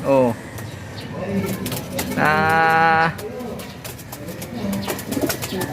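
Racing pigeons being trained for a summer race coo close by, with a clear drawn-out call in the middle of the clip over softer bird sounds and outdoor background.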